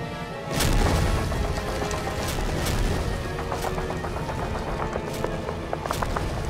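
Heavy incoming fire in the D-Day strategy game lands as repeated booms and sharp impacts, some close and loud and others more distant, in a steady barrage with no voices.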